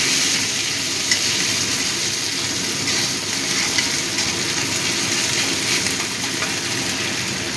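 Crushed ginger and whole cumin seeds frying in hot oil, a loud, steady close-up sizzle that holds evenly throughout with no voices.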